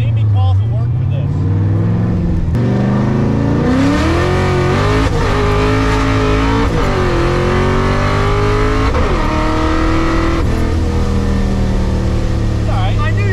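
A supercharged Ford Mustang engine roars loudly up close, rising in pitch through repeated hard pulls, with passengers talking over the constant engine noise.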